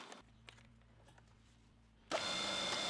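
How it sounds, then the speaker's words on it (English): Small wooden splines having a V milled along one edge; after a quiet low hum, a power tool abruptly starts up with a loud, steady, close whirring cut. "then I'll mill out a V along the one edge to fit into the slots"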